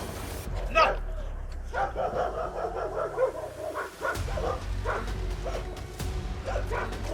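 Dogs bark amid a chaotic police encounter with an aggressive animal, with several sharp barks and yelps scattered through the clip while people shout over the steady noise.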